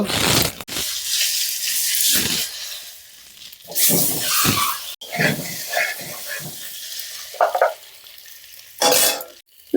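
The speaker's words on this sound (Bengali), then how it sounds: "ডিমগুলো আগে ভেজে নেব। তেলে 1 চিমটি হলুদ দিয়ে দেব।" Eggs frying in oil with a pinch of turmeric in a pan, loud hissing sizzle that comes in waves with clattering spatula and utensil knocks between bursts.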